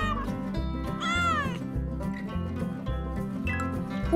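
A cat meows loudly several times, with one long rising and falling call, over a steady rhythmic background of low tones, in a farm-animal setting.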